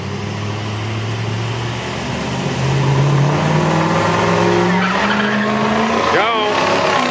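Truck engines revving hard with tires squealing and skidding in a truck-versus-truck contest, loud and continuous with a rising engine note and a sharp skid squeal near the end, voices audible underneath.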